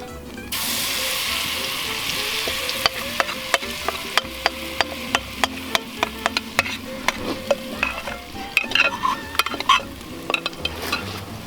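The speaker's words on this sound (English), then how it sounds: "Now we're going to take this over to the hot skillet." Steady loud sizzling of cornbread batter poured into a hot skillet, with a series of sharp metallic clinks and scrapes over the frying hiss.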